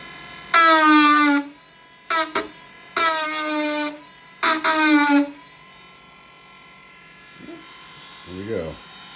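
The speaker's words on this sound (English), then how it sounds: "Dremel" A Dremel rotary tool runs in four loud, close bursts of high, buzzing motor whine separated by short pauses, followed by quieter handling noises.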